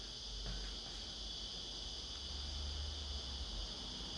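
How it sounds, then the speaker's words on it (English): Cicadas buzzing in a continuous high-pitched drone, faint and steady with no pauses or voices. "You can hear the cicadas at it."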